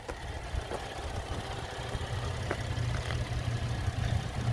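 A 2016 Buick Enclave all-wheel-drive SUV idles close by, a steady, low engine hum, even and continuous, with a few faint clicks over the rumble.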